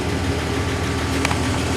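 The 1961 Studebaker Lark VI's engine idles nearby, a steady, even low rumble with a faint brief tap partway through and no voices.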